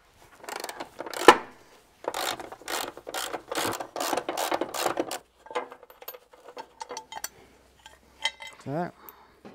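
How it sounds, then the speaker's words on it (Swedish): A socket wrench works the front subframe bolts on a Volvo XC, using 18 mm and 13 mm sockets, with a series of close rhythmic ratcheting bursts followed by scattered metallic clinks and handling noises. "då har vi fått ut alla bultar som håller i framvagnen på vänster sida"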